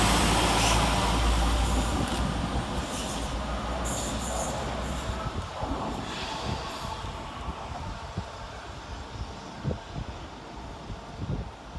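West Midlands Railway class 172 diesel unit 172337 at Birmingham Moor Street station, a loud rumbling engine drone with wheel noise and faint squeals, easing gradually as the train moves through the platform.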